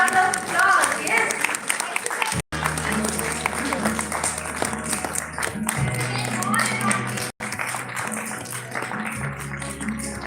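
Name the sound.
applause, clapping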